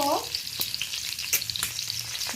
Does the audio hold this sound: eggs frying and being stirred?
yes